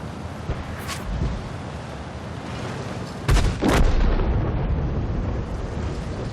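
A tank gun fires in World of Tanks, a deep booming shot with a rumbling tail, plus a fainter earlier report, over continuous low in-game engine noise with no talk.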